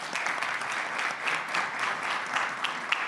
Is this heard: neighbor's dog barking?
no